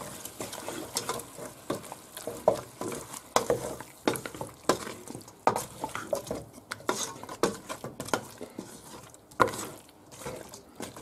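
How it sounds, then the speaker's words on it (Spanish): Tomato and sweet paprika fry in a pan for a rabbit and potato stew while being stirred, with a steady run of close scraping clinks and utensil taps over a soft sizzle. "ahora le echamos el tomate y el pimentón dulce"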